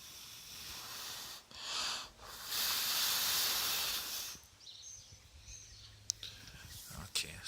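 Air is blown in long breathy gusts into a burning wood pellet woodgas stove, giving two or three close hissing blows that rise and fall, then a quieter stretch with small clicks.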